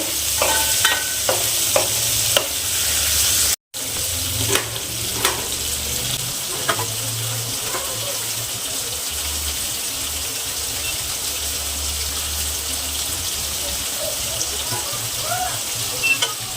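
Paneer pieces fry in hot oil in a pan for palak paneer curry, a steady loud close sizzle running throughout with occasional stirring clicks and scrapes early on and a brief cutoff near the start.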